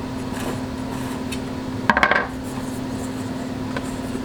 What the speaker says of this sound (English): And then releasing my cake from the pan.